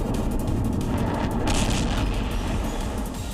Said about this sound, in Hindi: रॉकेट न्यू ग्लेन परीक्षण के दौरान जोरदार धमाके के साथ फट गया